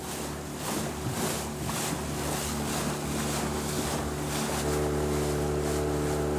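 A fishing boat's motor on Lake Como runs at a steady drone with a constant low hum, while wind and water wash around it close by.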